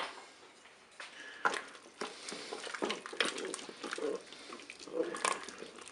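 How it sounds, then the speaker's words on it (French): Tomato paste being stirred into a dish in a Cookeo multicooker, with soft scraping and wet squelching strokes of a utensil arriving in irregular bursts, fairly quiet and close. "ajouter le concentré de tomate. Je vais mélanger, bien sûr."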